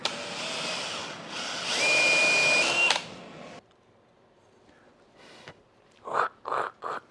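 Drill biting into a homemade wood stove, a loud steady whine running for about three seconds, then silence followed by three short bursts of drilling near the end.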